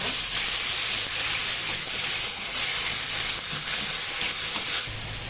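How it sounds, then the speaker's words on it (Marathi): A ground paste of green chilli, ginger, garlic and coriander sautéing in a pan gives a steady, close sizzle and hiss that runs unbroken throughout, with no voices. "आता त्याच्यामध्ये वाटण टाकून घेतो, हिरवी मिरची, अद्रक, लसूण, कोथिंबीर, ते पण चांगलं परतून घेतो।"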